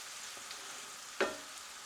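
Onions fry quietly in a pan with a soft, even sizzle, broken by one brief clatter as they are stirred.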